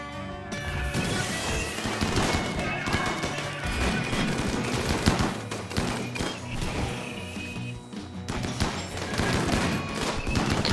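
Dense, continuous gunfire and crashing impacts fill a RimWorld battle, a mid-level clatter of shots that overlap steadily throughout with no voices on top.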